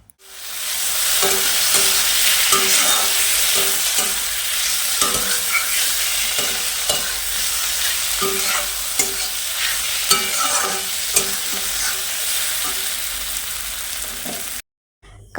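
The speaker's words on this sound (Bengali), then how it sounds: "আর এখানে কাঁকরোল ভাজা হচ্ছে" Spiny gourd slices frying in hot oil, a loud constant sizzle broken by regular scraping stirs, then it cuts off abruptly near the end.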